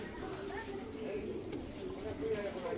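Racing pigeons coo softly in a low, repeated burbling, faint and close, while someone talks over them throughout.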